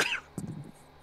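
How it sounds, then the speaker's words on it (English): A person coughs once sharply, then a softer throat-clearing cough follows, close to the microphone in a quiet room. "Coughing, obviously."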